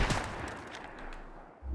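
Gunfire in the video game Fortnite, played on the Switch: a dense, muffled spray of shots crackling at low level through most of the moment, with a heavier low thump near the end.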